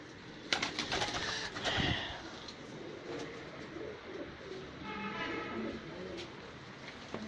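Cheena pigeons cooing low and faint in the background, with a few sharp knocks and rustles early on and a murmur of voices.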